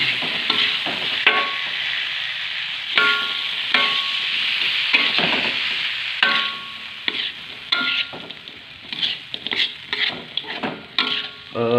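A spatula stirs a tempeh stir-fry in a pan, with steady frying sizzle broken by repeated sharp scrapes and clinks against the metal, loud and close, and no voices.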